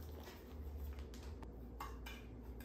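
Melted butter and lightly packed brown sugar stirred together in a pan or bowl for pineapple upside-down cake, giving soft scraping and light utensil clinks against the dish over a steady low hum, with no talking.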